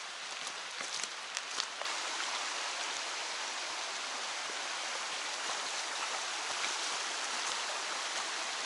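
Five-tier waterfall along a forest walking trail near the Inuyama campsite, a steady broad rush of falling water filling the scene continuously, fairly distant and even, with no voices.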